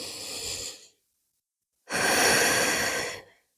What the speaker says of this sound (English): 2 more nice deep breaths here